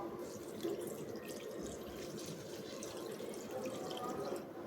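Thick poha flakes soak in water in a kitchen, a faint steady trickle with light dripping and swishing throughout, quiet and close.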